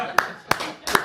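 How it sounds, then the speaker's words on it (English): Several sharp bursts of audience clapping arrive in three quick separate pulses at a comedy talk show taping, fairly close and loud. "I don't know what you're applauding for"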